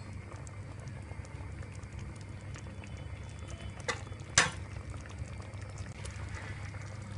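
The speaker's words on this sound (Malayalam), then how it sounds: "ഒരല്പം കൂടി തിളപ്പിച്ചെടുക്കാം" Egg curry simmering in a pot gives off a low, steady bubbling hiss, with a couple of sharp clicks partway through and no voices.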